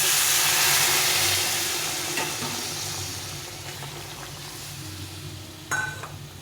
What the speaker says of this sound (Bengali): ডিমের ঝোল ফুটে গেছে